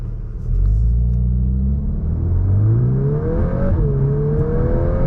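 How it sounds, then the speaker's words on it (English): A VW MK8 Golf R in race mode accelerates hard, its engine rumbling loud and close as the revs climb in steady pulls, with a brief dip at a gear change. "I'm just going to step on it, not all the way, but I'm step on it kind of hard and see what it does"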